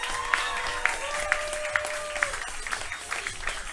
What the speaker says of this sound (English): Guys, nice round of applause for Zach Lyons!